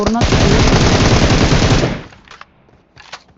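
Automatic gunfire in PUBG Mobile: a dense, loud sustained burst for about two seconds, then quieter short volleys trailing off in the distance.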